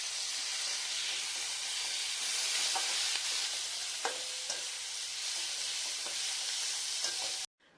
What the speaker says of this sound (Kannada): ಈ ಹದಕ್ಕೆ ಈರುಳ್ಳಿಯನ್ನು ಹುರಿದುಕೊಂಡ ನಂತರ ಬಾಣಲೆಗೆ ಹೆಚ್ಚಿಟ್ಟುಕೊಂಡ ಟೊಮ್ಯಾಟೊವನ್ನು ಸೇರಿಸ್ಕೊಂಡು